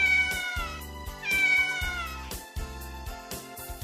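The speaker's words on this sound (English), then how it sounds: "cat." Cartoon cat meowing in a children's learning show, a couple of drawn-out, fairly loud meows set over a bouncy music backing, no speech.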